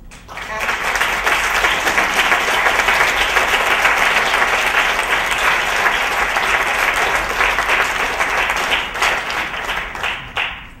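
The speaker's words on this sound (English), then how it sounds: "I think we should give a round of applause to the leaders of this movement here." An audience at a talk on friendship and intimacy breaks into a loud, sustained round of applause, many hands clapping densely for about ten seconds before tapering off.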